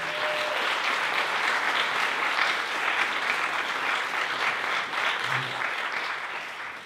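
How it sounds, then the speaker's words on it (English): Wedding guests applaud a couple during the bride's parents' speech, a sustained, even roar of many hands clapping that fills the room without pause and tapers slightly at the end. "I think we should give them a hand clap"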